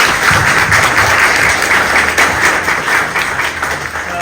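An audience at a Signal Hill and Long Beach LGBTQ+ Chamber of Commerce luncheon claps steadily for writer Gideon Bernstein, dense close applause holding loud throughout.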